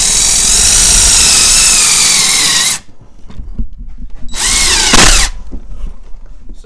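A power drill whines loudly and steadily as it sinks a bit down to its stop, stops, then spins up again for a shorter burst, with quieter handling noises between runs.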